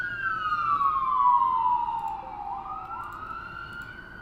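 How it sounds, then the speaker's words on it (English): Wailing emergency siren from the video game Rimworld, a single steady tone gliding slowly downward then rising again, continuous and fairly loud with no talk over it. "Mind the sirens."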